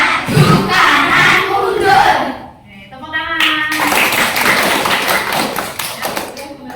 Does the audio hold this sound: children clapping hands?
yes